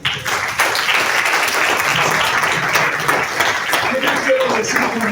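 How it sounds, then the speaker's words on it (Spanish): Church congregation applauding during a Spanish-language sermon, a steady, loud wash of clapping filling the whole stretch, with some voices mixed in. "Den un aplauso."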